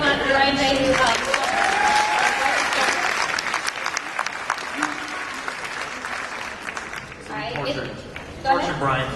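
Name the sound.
applause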